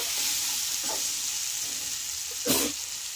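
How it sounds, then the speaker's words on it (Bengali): Fried sankar fish pieces being stirred in a sizzling spice masala, a continuous hiss of hot oil with faint scrapes and one louder scraping stir near the end. "মাছগুলো দিয়ে হালকা মশলা দিয়ে একটু নাড়াচাড়া করে দিয়ে"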